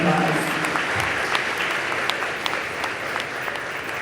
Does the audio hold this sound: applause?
yes